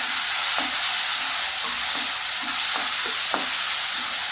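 Ginger-garlic paste sizzles steadily in a hot pan for a soya chunk curry, a constant close frying hiss broken by occasional scraping stirs and taps of the spoon.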